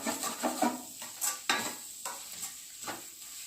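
Vegetables and salt stirred in a pan for egg Maggi masala noodles, a few distinct scraping and clinking strokes over a soft sizzle, close and fairly quiet, no voices.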